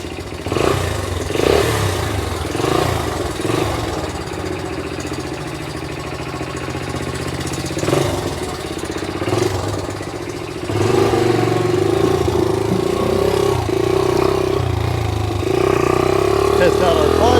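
A 1982 Honda XL80S motorcycle engine runs close by, idling with clatter and short revving bursts, then a steadier, louder drone as the ride gets under way.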